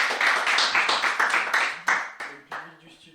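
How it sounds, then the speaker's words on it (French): A small studio group claps for Thomas before he comes up to do an impression on a quiz show, with close, loud, uneven handclaps that fade over about three seconds. "On applaudit Thomas."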